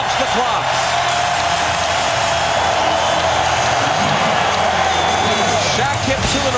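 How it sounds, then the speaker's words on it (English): Basketball arena crowd during the 2000 NBA Western Conference Finals Game 7 between the Trail Blazers and Lakers, a loud, sustained roar of cheering filling the whole stretch, with a commentator talking over it. "just like that, the crowd is alive"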